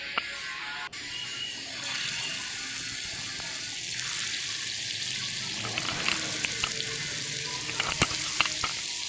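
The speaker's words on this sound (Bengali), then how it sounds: "আমি এবার এটাকে কোপ্তাগুলোকে ফ্রাই করে নেব" Chicken koftas fry in hot oil in a large pan, a continuous loud sizzling hiss with occasional crackles and pops that grow busier toward the end.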